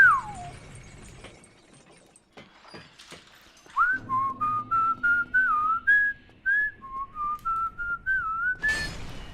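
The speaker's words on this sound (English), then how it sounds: "I can whistle better than I can sing" A person whistles a lively run of short, rising and sliding notes in a quick rhythm, loud and close, after a quieter stretch of faint background noise with no talking.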